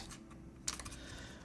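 Fast clacking keystrokes on a custom mechanical keyboard with a patinaed Unikorn case, quiet and close, with one sharper key strike standing out midway.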